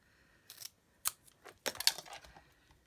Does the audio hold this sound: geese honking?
no